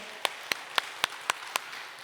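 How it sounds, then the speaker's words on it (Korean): A congregation at a Korean Methodist church's Sunday worship service claps in unison, six crisp, evenly spaced claps at a brisk, steady beat. "한번 박수 한번 칠까요?"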